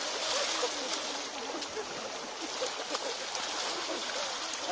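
Continuous rushing water at a rocky stream in a tourist spot near Panchkula, bright broadband splashing and churning close by, steady throughout with faint voices mixed in.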